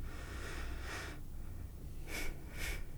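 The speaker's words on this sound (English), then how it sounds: "just breathe through your nose" A person breathing slowly through the nose while sitting upright, heard as a few soft, airy inhalations and exhalations at close range, with a quiet pause between breaths.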